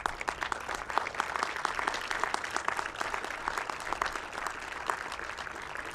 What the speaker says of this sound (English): I'd like you to recognize this entire group with a big round of applause